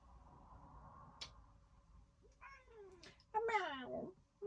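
A house cat meows a few times up close, with short rising and falling calls that grow louder toward the end over quiet room noise.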